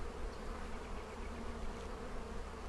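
Honeybees buzzing steadily during an early-spring hive inspection, a dense, continuous close-up drone of many bees with no voices.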